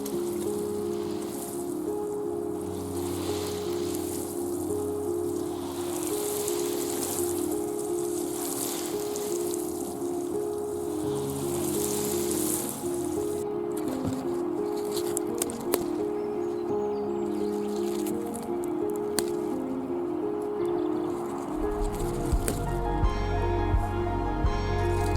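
On an allotment, water patters steadily onto onion plants, a soft continuous trickle and splash that runs throughout with only small shifts in level.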